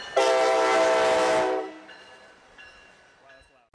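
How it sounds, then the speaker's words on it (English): Train horn blasting loudly and close for over a second, a harmonic chord, then fading into the rumble of the passing train with further fainter horn notes, heard outdoors with no talk. "Oh, we got a train coming."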